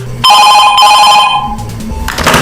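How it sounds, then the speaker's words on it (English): A telephone rings loudly and close in the video game FNAF 2 Reimagined, a bright trilling bell that sounds electronic, cutting off and starting again briefly. "Night 4 phone call begins with again William being a weirdo."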